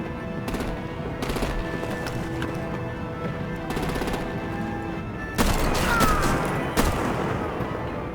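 Heavy artillery and rapid gunfire in the video game Batman: The Enemy Within, steady loud bursts with a louder, harsher barrage near the end over a constant roar of battle noise.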